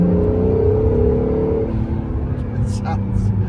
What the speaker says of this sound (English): light throttle, you can hear the turbos just spooling a little bit, a little wastegate action when we lift off